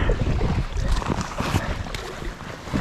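Strong wind on an outdoor wild camp, a loud, steady roar buffeting the microphone with gusty surges throughout and no voice.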